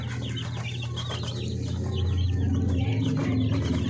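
A flock of native chicken chicks peeps continuously in high, overlapping chirps over a steady low hum, loud and close, with some clucking mixed in.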